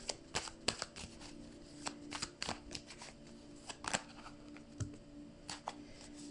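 Tarot cards being shuffled by hand, a close series of crisp riffling and slapping bursts in irregular rhythm, with no talking.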